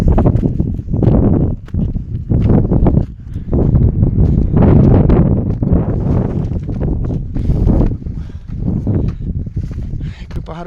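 Strong gusts of hot, dry desert wind buffet the microphone in heavy, rumbling bursts while people talk underneath, at Al-Bad in Saudi Arabia.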